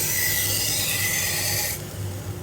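A Global kitchen knife pressed against a running AMK-75 1x30 belt grinder, a loud, continuous high abrasive hiss over the motor's hum, the grinding stopping abruptly near the end and leaving just the machine running.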